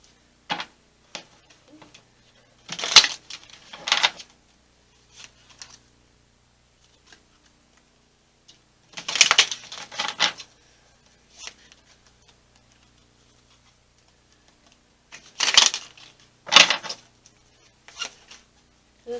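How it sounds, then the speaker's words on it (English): Tarot cards are shuffled in three separate bursts of crisp riffling and snapping, close and fairly quiet, with faint taps and handling sounds between the bursts and near silence in the gaps. "Okay, let me get these shuffled real quick."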